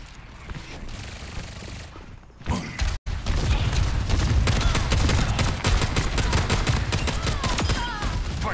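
Very rapid, continuous gunfire in Overwatch 2 rattles on loudly after a brief pause, dense clicking shots over game effects, with a voice talking faintly under it.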